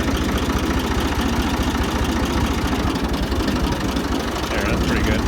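A Ford 2000 tractor engine runs with a loud, steady low chugging pulse, heard close up and unbroken throughout, with a little rattling vibration on top.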